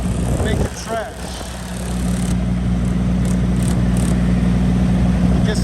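A semi truck engine runs steadily close by, a loud low rumble with a brief dip early on before it settles into an even, constant drone, with some rattling on top.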